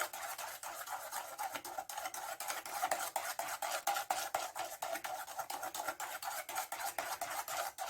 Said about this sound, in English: So stir that through.